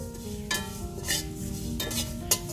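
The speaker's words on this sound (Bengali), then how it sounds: "মশলাগুলা খুব ভালোভাবে ভেজে নিব, কিন্তু চুলার আঁচটা একদম অল্প করে" Spices fry over very low heat in a pan for a hog plum pickle, a soft steady sizzle punctuated by a few sharp scrapes and clinks of a spatula against the pan.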